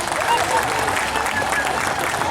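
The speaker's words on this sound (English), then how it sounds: "Please a round of applause for that." Steady applause from a crowd at an African music festival in Australia, dense clapping throughout at a consistent level.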